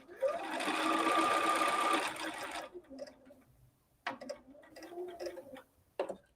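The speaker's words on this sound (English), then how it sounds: "I'm gonna sew right as close as I can to that pin." A sewing machine stitches a 9-patch quilt block of Tula Pink Nightshade fabric, with a steady loud mechanical whir for about two seconds. It stops, then brief clicks and handling noises follow, close to the mic.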